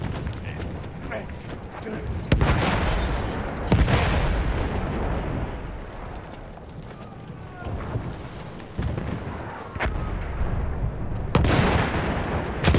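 Battlefield 1 war scene on PC with heavy artillery booms and gunfire, several sharp loud blasts spaced a second or two apart over a constant rumbling battlefield din, with shouted voices mixed in.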